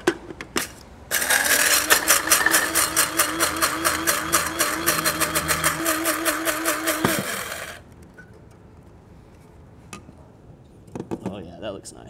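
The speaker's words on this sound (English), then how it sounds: "So I'm gonna transfer these to my spice grinder. We can break them down a bit." An electric spice grinder coarsely crushes peppercorns and whole spices for pastrami, a loud, steady whirring buzz running about six seconds before cutting off, followed by quieter handling clicks.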